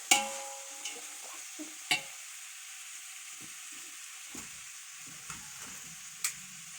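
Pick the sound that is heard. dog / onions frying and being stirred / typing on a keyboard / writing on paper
onions frying and being stirred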